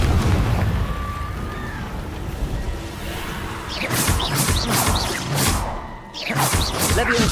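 A Confringo explosion spell cast in the video game Hogwarts Legacy, sounding as whooshing bursts and crashing blasts in the second half, loud and close over busy game sound.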